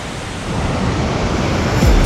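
Steady, dense rushing water from the El Chiflón waterfall in Chiapas, Mexico fills the scene, a constant broadband roar with a low rumble swelling near the end.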